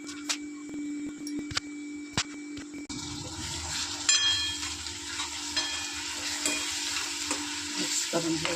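Potato curry gravy cooks in black chilli masala with turmeric, onion, coriander and a ginger, garlic and coconut paste, giving a steady close sizzle with stirring scrapes, sparse clicks at first, then a louder, fuller frying hiss.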